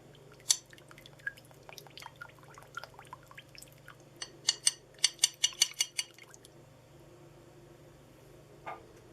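Warm milk and vegetable oil being stirred together in a bowl while making a fruit ice-cream cake, heard as a series of light, close clinks and taps from a spoon, bunching into a quick rhythmic run midway, with no talk.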